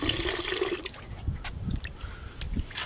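Water poured and swirled in a gold pan holding fine floating gold, a close, continuous splashing and trickling with soft sloshes and small drips.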